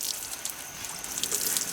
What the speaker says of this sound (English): fill in the container with about a half a gallon of water